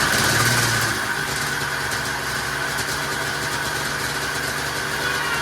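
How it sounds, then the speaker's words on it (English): A mid-1980s Ski-Doo Formula MX snowmobile engine idles steadily and close by, with a brief louder rev or settling at the start before it holds an even, buzzing idle throughout. "Skidoo Formula MX Snowmobile from 1985, 87, something like that"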